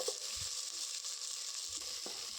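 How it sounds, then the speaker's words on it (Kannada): Oil sizzles steadily as mustard seeds, cumin, dry chillies and onion fry together for a bisi bele bath tempering, a close, continuous hiss with a few soft bumps of the pan and no talking. "ಎಲ್ಲದನ್ನು ಫ್ರೈ ಮಾಡ್ಕೊಳ್ಳಿ"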